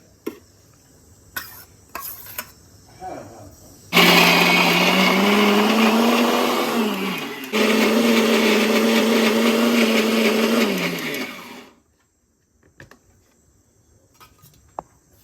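A kitchen mixer grinder whirs loudly through dosa batter with coconut water, running in two long bursts with a brief pause between them and a slight pitch drop under load before stopping to quiet handling sounds.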